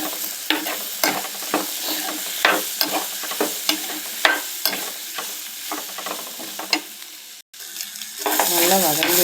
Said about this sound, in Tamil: தேங்காய் போட்டாச்சு. எல்லாத்தையும் நல்லா வதக்கிக்கலாம்.